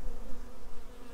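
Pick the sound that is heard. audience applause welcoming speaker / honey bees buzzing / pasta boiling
honey bees buzzing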